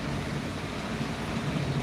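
Continuous rumbling surf with a broad wash of noise, waves breaking steadily with wind in the background.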